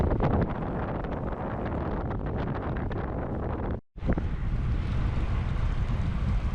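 Strong headwind roars over the microphone during a gravel bike ride near Masi Torello and Ferrara, a loud, constant buffeting that cuts out briefly midway and then resumes.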